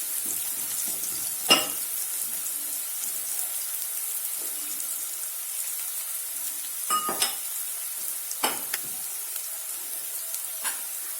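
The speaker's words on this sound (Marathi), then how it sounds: "यात आता आपण आलं लसूण टाकून घेऊया" Ginger and garlic sizzle in a frying pan with onions during cooking of chana dal palak sabji, a steady close hiss of hot oil broken by a few sharp spatula scrapes and clinks.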